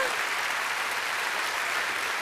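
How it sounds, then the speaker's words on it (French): Steady applause from a studio audience on the set of a French live television show at the Olympia, dense and continuous throughout. "On peut les applaudir quand même."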